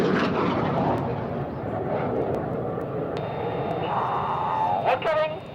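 Jet aircraft climbing away at an RAF Waddington airshow, a broad steady engine roar fairly loud throughout, with a higher whine rising near the end and a commentator talking over it.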